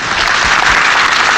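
A full house at a civic centre applauding a 1977 professional wrestling bout, loud dense clapping from a packed crowd, steady and close throughout.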